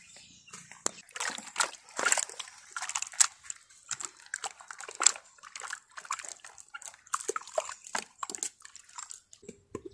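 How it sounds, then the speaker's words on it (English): Matoke, green bananas, being washed in water in a village: repeated sloshing and splashing strokes, close by and moderately loud, in irregular bursts with brief pauses. "Let's go and wash my matoke."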